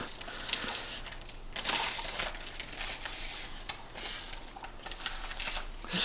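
Protective film peeled from a glossy plastic foglight bezel for a 2015+ Subaru WRX/STI, a near, continuous crinkly tearing rasp with a few louder bursts, no talking.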